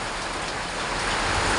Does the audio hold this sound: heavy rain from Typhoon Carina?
yes